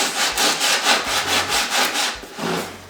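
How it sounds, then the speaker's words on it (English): Steady back-and-forth sanding strokes rub along the edges of a decoupage suitcase, a rhythmic scratchy sound at close range with no talking. "I will sand as well, so on these edges here"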